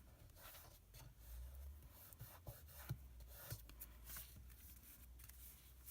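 Paper is rubbed down by hand onto a covered notebook to stick it in place, giving quiet, scratchy strokes with a few sharper scuffs, faint and close with nothing else heard.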